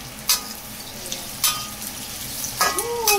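Onion and garlic frying in a pan alongside green chilies: a continuous close sizzle broken by a few sharp clinks and scrapes of a utensil stirring, without talk.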